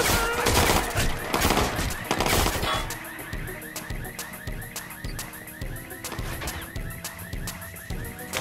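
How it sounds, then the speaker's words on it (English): Sustained automatic gunfire from a Watch Dogs 2 firefight, dense rapid bursts loud at first, then continuing as repeated sharper volleys with rattling shots under a steady game score. "I'm under fire!"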